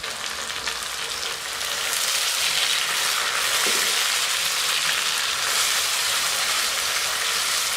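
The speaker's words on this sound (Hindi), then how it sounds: "अब मैं इसमें टमाटर डाल दूँगी।" Chopped tomato frying with browned onions in a pan, a steady, loud broadband sizzle that intensifies partway through and holds evenly, with no talking.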